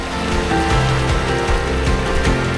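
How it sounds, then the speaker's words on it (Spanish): The Genal river flows through its lower valley on its way toward the Guadiaro, a loud, steady rush and gurgle of water heard close by without any voices. "Acompañamos unos metros a este alegre caudal en su viaje hacia el río Guadiaro."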